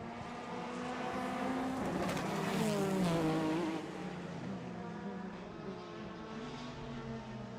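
A race car from a circuit racing championship roars past on the track, loud and near, its engine note rising then falling away, with the roar of more cars following behind.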